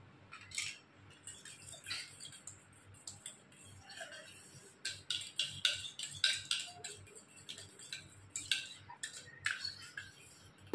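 A fork or spoon whisks beaten egg with chopped green chillies in a bowl for an omelette, a steady run of quick, faint clinking taps against the dish, close and alone.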